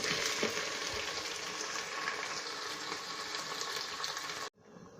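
Stewed chicken spitting and sizzling in a hot pan as it is stirred, a steady dense crackle with small pops throughout, cut off abruptly near the end.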